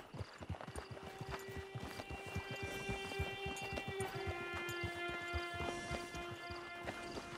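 Horse hooves clip-clopping in the video game Red Dead Redemption 2, a steady rhythmic stream of soft hoof beats over a faint musical hum, moderately quiet and continuous.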